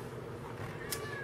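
A house cat meows once, briefly and fairly close, over steady indoor room noise.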